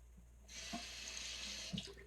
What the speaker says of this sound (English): let me add some more water